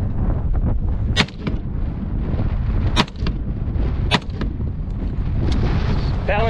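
Gunshots from a Sig Sauer M17 pistol or Colt M4A1 rifle ring out one at a time in an outdoor live-fire run at Piñon Canyon, several sharp reports spaced apart over steady background noise.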